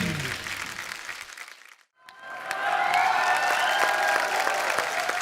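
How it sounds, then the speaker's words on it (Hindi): Studio audience on a Hindi TV comedy talk show bursts into applause and cheering after a brief lull, a broad roar of many hands swelling and holding steady, with some music-like tones running underneath. "तो एक बार कंगना के लिए जोरदार तालियां"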